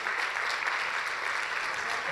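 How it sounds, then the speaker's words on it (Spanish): A church congregation applauds during a Spanish-language sermon, a short burst of steady, dense clapping that fills the room with no voices on top. "¿Cuánto le dan un aplauso al Señor?"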